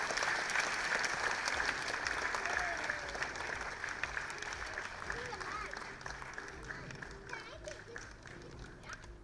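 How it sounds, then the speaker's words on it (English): A crowd at a community centre's annual day event applauds steadily, dense clapping throughout with some voices mixed in, gradually easing toward the end. "let's give him a big round of applause."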